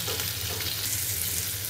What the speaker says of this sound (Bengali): এখানে আলুটা আমি একটু ভেজে নিচ্ছি